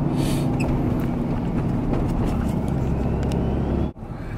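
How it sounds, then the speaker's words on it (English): A pickup truck with an engine tune drives with a steady, deep engine drone and road rumble from inside the cab, continuous and fairly loud. "The truck just sounds a lot better."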